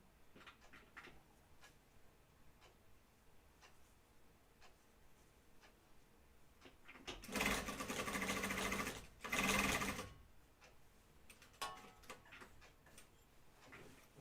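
A sewing machine top-stitches a flight suit in two short, loud bursts of rapid stitching separated by a brief pause, while quieter ticks and handling sounds fill the rest.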